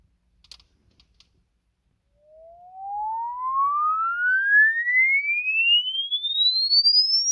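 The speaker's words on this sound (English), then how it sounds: "basically what happens is it's going to do a sweep" A pure sine sweep played through an SB Acoustics SB29RDNC tweeter glides steadily upward from about 1 kHz to 20 kHz, loud and continuous, after a few faint clicks at the start.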